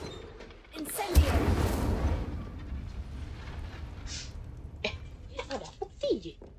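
An Incendio fire spell cast in Hogwarts Legacy makes a loud whooshing burst that fades over about a second, followed by game sounds and a voice talking.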